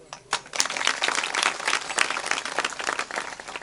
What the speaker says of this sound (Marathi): मरीला टाळ्या वाजल्या,